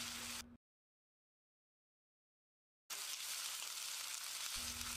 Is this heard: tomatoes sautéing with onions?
yes